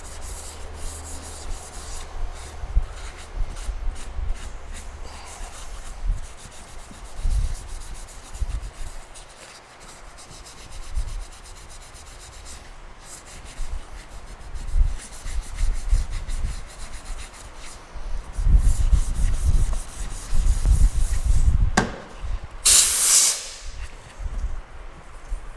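Fine sandpaper rubbed by hand over a repaired Sonic quarter panel, a continuous scratchy rasp with uneven back-and-forth strokes that grow louder and denser toward the end, no talking.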